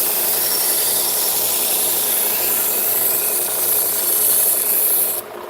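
A butcher's worn knife is drawn against a sharpening stone or rasp in one long, steady grinding scrape, loud and close, ending abruptly near the finish.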